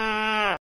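A single short bleat from a goat, loud and close, lasting about half a second before cutting off abruptly.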